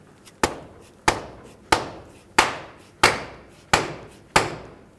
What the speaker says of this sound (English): I'm going to take a rubber mallet, hit it on the end of the axle here.